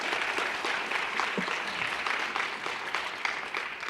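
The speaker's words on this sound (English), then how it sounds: "Let's all give Henry a round of applause." A small audience at a children's reading and writing event claps for a young participant named Henry, a faint, even patter of hands lasting a few seconds.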